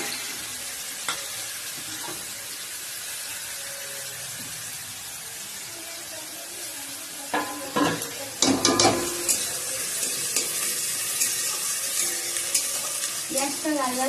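Food fries and is stirred in a pan in a home kitchen, a steady sizzle under sharp scraping and clattering bursts of stirring that grow busier toward the end, with no talk.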